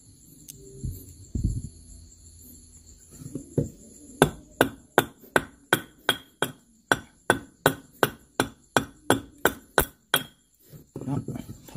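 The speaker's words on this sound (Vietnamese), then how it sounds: "Tại vì búa này búa bữa củi ha." A splitting hammer strikes firewood in a steady run of about twenty sharp, evenly spaced blows, close and loud. Faint rural background noise and brief low voices come before and after the run.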